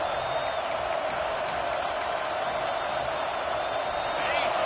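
A stadium crowd in the College Football 26 video game, during an Arkansas versus Tennessee matchup on fourth down, makes a steady roaring wash of noise with faint whoops, under a commentator's voice.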